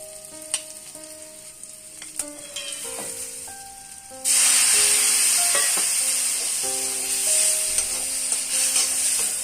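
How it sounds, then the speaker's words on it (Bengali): Lentils cooked with prawns in a pan with asafoetida and a splash of water; soft clinks and stirring give way midway to a sudden loud, sustained sizzle and hiss as water hits the hot pan, then continued stirring. "দিয়ে সামান্য একটু জল দিয়ে নেড়ে দেবো।"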